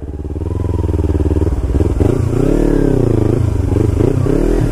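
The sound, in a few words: Kawasaki Ninja 300 motorcycle engine revving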